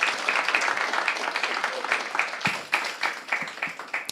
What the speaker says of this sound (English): we would like to welcome him by giving a round of applause to him.